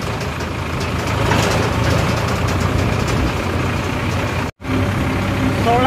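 Farmtrac 60 Deluxe tractor diesel engine running steadily at a constant, loud low rumble, with a brief dropout near the end before it continues unchanged.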